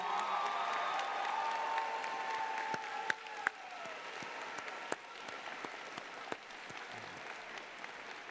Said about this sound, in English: We got one more round of applause for our MVPs.